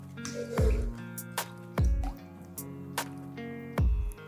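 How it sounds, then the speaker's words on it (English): Egg being stirred into a bread dough mixture in a bowl, giving three wet, squishy plops about a second apart over faint ticking, soft and close. "Now we'll stir this in also."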